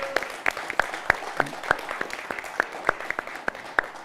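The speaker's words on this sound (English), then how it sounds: "Give Judge Darrell Jordan a warm round of applause" Scattered, evenly spaced claps from a small audience for Judge Darrell Jordan at a public event marking five years since George Floyd's death; individual hand claps ring out sharply over a faint room background.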